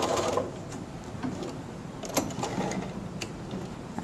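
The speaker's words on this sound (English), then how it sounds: "We're going to back stitch over the stitched line and then back to the edge" A sewing machine back-stitches across a fabric bookmark, with a steady fast mechanical whirr of the needle and a few small clicks, close and fairly loud, with no voices.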